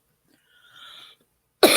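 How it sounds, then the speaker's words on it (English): Near silence with a faint murmur, then one sudden loud cough close by at the very end. "Damn, I got the cough"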